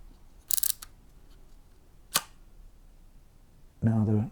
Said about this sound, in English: Now the shutter has recocked itself.